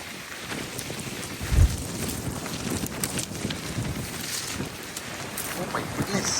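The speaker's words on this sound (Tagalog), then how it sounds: "Grabe naman tong hangin, oh." Strong wind roars and waves slap around a small fishing boat at sea, a constant loud rushing wash with a thump near the start, while people talk over it.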